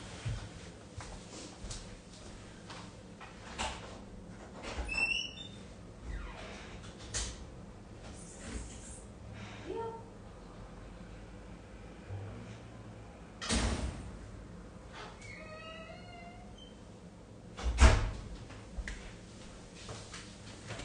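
A house door is opened to let a cat in from outside, giving a few scattered clunks and knocks against a quiet room background with no talking.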